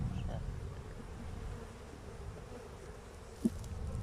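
Honeybee drones emerge at a beehive, giving a faint, continuous low buzzing hum of many insects close by, with one short sharp tap near the end.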